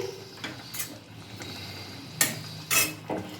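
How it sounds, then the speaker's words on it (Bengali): A spoon stirring lentil fritter curry with matar dal and bottle gourd stems in a pan after garam masala goes in, a few light metallic scrapes and clinks against the pan over a quiet background hum. "গরম মশলার গুঁড়ো দিয়ে দেওয়ার পর আবারও একটু নাড়াচাড়া করে নিচ্ছি"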